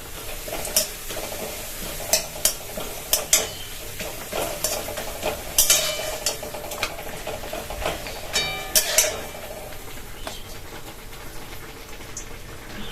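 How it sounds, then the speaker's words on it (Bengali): Papad frying in hot oil, a steady crackling sizzle with repeated sharp pops and bursts of bubbling as pieces go in and are turned, close and clear without talk. "লাস্ট এই পাঁপড়টা আছে, এটা ভেজে নিই।"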